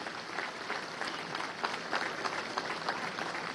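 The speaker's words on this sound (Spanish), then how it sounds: "a los cuales pido un aplauso" Crowd applause at Venezuela's Independence Day civic-military parade in 2015, a steady, moderately distant wash of clapping from a large gathering.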